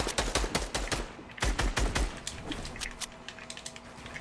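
Rapid bursts of shotgun fire from the video game Fortnite, a dense run of sharp cracks through the first two seconds, then lighter scattered pops and game effects.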